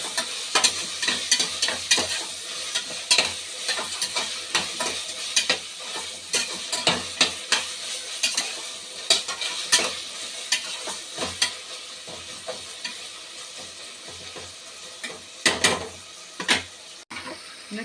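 Onion and tomato stir-fry in a pan for prawn biryani, a loud continuous sizzle broken by frequent scraping and clattering strokes of a spatula against the pan, with no talking.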